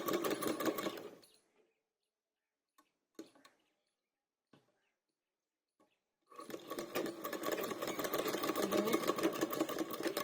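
A sewing machine stitches fabric in two loud runs, one at the start and one longer near the end, with a quiet gap between them broken only by a few small clicks.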